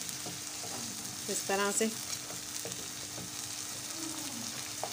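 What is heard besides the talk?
stirring tomato and green chillies frying in pan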